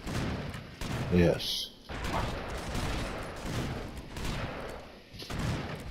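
Rapid gunfire in the side-scrolling game Broforce, a steady barrage of sharp shots and explosions running throughout, with excited voices talking over the shooting.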